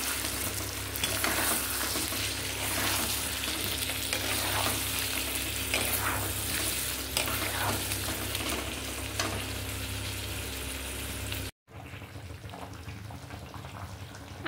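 Egg curry with potatoes and omelette pieces fries and sizzles in a pan, stirred with frequent spoon scrapes, loud and close for about eleven seconds before a brief cut to a quieter, softer sizzle.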